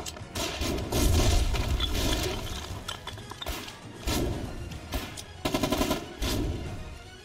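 Rapid bursts of automatic gunfire from the war video game Foxhole, loud and close, with chattering volleys separated by brief gaps and overlapping shots from several weapons.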